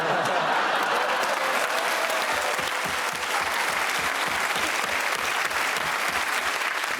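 Loud, steady applause from a studio audience at a comedy panel show, a dense unbroken wash of clapping that carries through the whole stretch.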